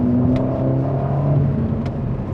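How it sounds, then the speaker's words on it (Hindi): A Ferrari Portofino M's exhaust drones loud and steady, a sustained close-up engine roar with a gritty, aggressive edge, heard alone without voices. "जो एग्जॉस्ट नोट है, जो साउंड है, वो बहुत ही वाइल्ड, अग्रेसिव और लाउड है"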